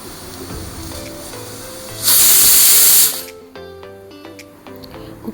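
A pressure cooker whistle blows for about a second, a loud hissing burst of steam releasing while chicken soup cooks, with quieter kitchen sounds before and after.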